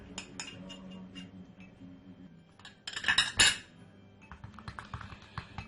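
A spoon clinks and scrapes against a bowl while mixing egg yolk and honey into a face mask, with soft irregular taps and a louder clatter of strokes partway through, close and quiet with no talking.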